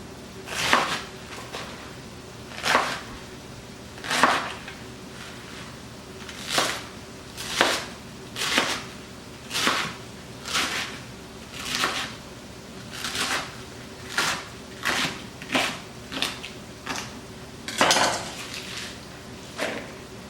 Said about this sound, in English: And continue chopping the rest.